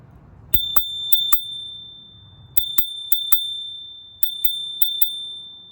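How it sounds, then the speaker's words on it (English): A bell on a Ladped LP80 budget 350W electric scooter rings close and clear in three groups of quick metallic dings, each group leaving a bright ringing tone that fades before the next. "no tour of the cockpit would be complete without a sounding of the bell"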